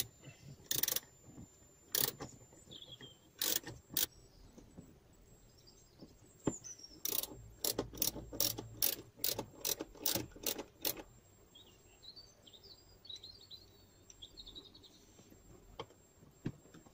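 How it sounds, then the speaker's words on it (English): A small ratchet tightens sockets while a Porsche Boxster 986 centre console is being fitted, giving close, crisp clicking in short bursts and one longer rapid run, with quiet pauses in between. "so I have to use this little ratchet"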